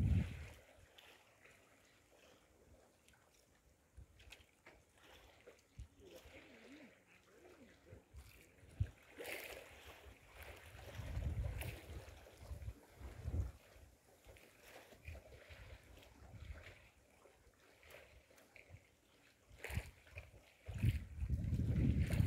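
Strong wind gusting across the microphone while fishing with a bamboo rod on a murky river, with choppy water lapping nearby. The rumbling buffets swell and fade unevenly, louder toward the end.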